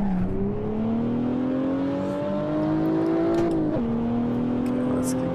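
A BMW 1M drifts through a turn, its engine holding a steady, rising drone that dips and shifts pitch near the end, loud and continuous with faint tire noise.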